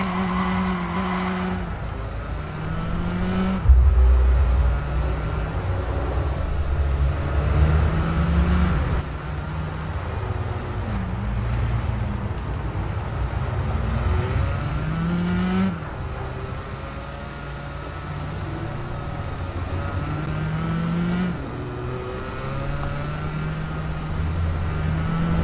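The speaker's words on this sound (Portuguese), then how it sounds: "fazer um rolezinho de carro aqui" A car drives through the Chicago streets of the open-world game Watch Dogs, its engine humming and revving through gear changes for a long stretch, with occasional tire squeal and thumps from bumps along the way.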